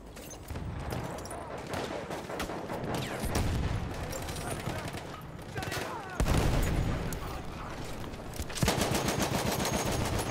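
Gunfire and explosions in the World War I shooter game Battlefield 1, continuous bursts of machine-gun fire with sharper, heavier blasts at intervals, all dense and loud from start to finish.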